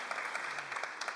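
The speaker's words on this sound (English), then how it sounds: "big applause for her" Audience clapping for a poetry editor and translator at a literary translation event, dense steady applause filling the whole short stretch.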